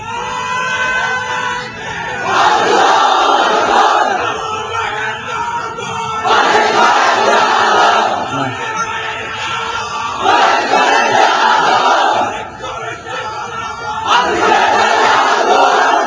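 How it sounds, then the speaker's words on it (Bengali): A large crowd at a Bangla religious gathering chanting slogans in unison, loud, repeated call-like bursts every couple of seconds with a continuous roar of voices between them. "একটু একটু মহব্বতের সাথে দেন তো সবাই স্লোগান।"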